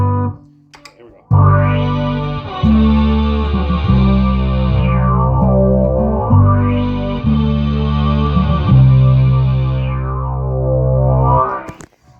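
An electric bass guitar played through effects pedals with chorus and distortion, picking out an intro riff in loud, steady repeated notes with a sweeping modulated shimmer, fading out at the end.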